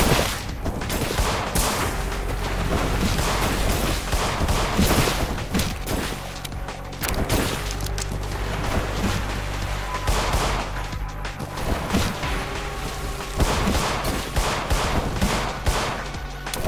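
Sustained heavy gunfire from enemies in the horror video game In Sound Mind, a dense, continuous barrage of loud overlapping shots and bursts lasting throughout, with no pauses.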